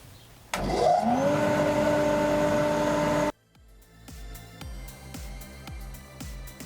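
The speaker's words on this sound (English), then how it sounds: "Vacuum." A vacuum cleaner roars loudly for about three seconds, then cuts off, leaving quieter rhythmic tapping and knocking.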